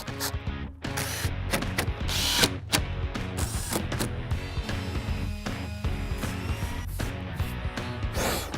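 A power drill drives 1 1/4 inch deck screws into wood while building a kids' bowling lane, sounding as loud, dense bursts of whirring and ratcheting with short pauses between screws.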